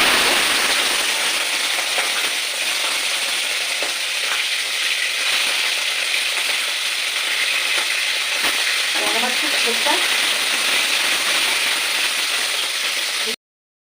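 A panful of large tangra fish frying in oil produces a loud, dense, continuous sizzle close up, with a few clinks and bubbling pops partway through before it cuts off abruptly.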